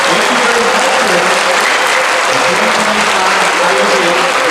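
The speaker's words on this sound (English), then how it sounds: "please give our guests a round of applause as they leave." Audience applause at a university graduation ceremony as departing guests leave, a loud, steady wash of clapping from a large crowd filling the whole clip with no pause.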